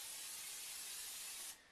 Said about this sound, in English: we're going to spray the top, give it a nice little mist